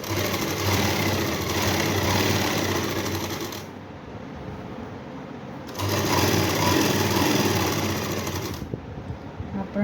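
A sewing machine stitching a pocket onto palazzo pants runs in two steady loud whirring bursts, pausing briefly between them, close to the listener.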